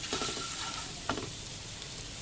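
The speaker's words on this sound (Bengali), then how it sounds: "মশলাটা নেড়েচেড়ে কষানো হয়ে গেছে" Spice masala of chili powder, Kashmiri chili and turmeric for chicken bharta fries in a pan, a close steady sizzle broken by a quick stirring scrape and clink, no speech.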